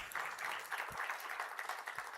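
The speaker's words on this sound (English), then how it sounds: "Let's give these guys a round of applause again." Audience at a pitch competition grand final in Paris breaks into a steady round of applause, a dense wash of many hands clapping at moderate distance without pause.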